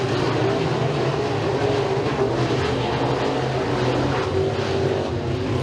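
Race cars roaring around the oval at Eriez Speedway during a heat race, a steady, dense engine drone from several cars at once, continuous and fairly loud throughout.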